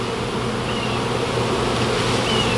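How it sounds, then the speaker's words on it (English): Honey bees clustered and spreading out, giving a steady, close, dense buzzing hum that stays even and continuous with no talk. "I don't want to shake them because we don't want them flying back to the hive."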